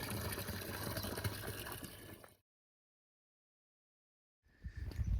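Clear running water trickles and gurgles steadily along a village path on the Camino de Santiago between Belorado and San Juan de Ortega, close and continuous, breaking off into silence partway before resuming.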